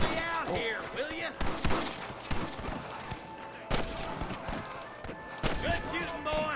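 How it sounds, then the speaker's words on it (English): Gunfire in the Western video game Red Dead Redemption: repeated sharp shots and volleys crack through a busy scene, with several loud bursts standing out against music and shouting voices. "Good shooting, boy!"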